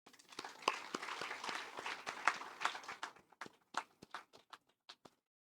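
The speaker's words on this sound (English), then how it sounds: "let us clap for him" An audience at an endowment lecture claps, a dense round of applause that thins into scattered individual claps before fading out.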